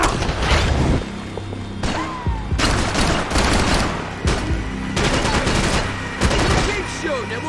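Dense, loud gunfire fills a shootout in Max Payne 3, with rapid bursts and single shots coming in waves and brief pauses between them, mixed with clanks and game sounds under continuous action.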